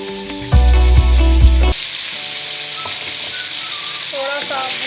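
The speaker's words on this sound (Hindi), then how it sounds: "थोड़ा सा भून लें।" Beef and tomatoes fry in a karahi with a loud, dense sizzle that carries on steadily. A low sustained tone sounds briefly at the start, and a few faint tonal chirps come near the end.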